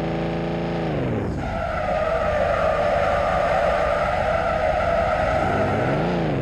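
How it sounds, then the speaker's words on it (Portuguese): A Range Rover Evoque drifts in a game, its engine revving down before a long, loud tire squeal holds for several seconds, then the engine note climbs again. "deixa eu mandar um drift aqui top,"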